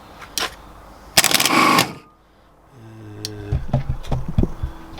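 A bench-tested Volkswagen starter motor spinning in short whirring bursts, a brief buzz, then a longer rattling run after a pause, with light clanks and movement around it.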